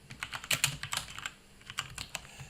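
Fast, uneven typing on a computer keyboard, with clustered clicky keystrokes close to the microphone in a quiet room and no talking.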